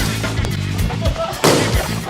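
Balloons burst with sharp pops among noisy, crowded shouting during a team balloon-popping party game, several loud bangs scattered over a constant din of voices.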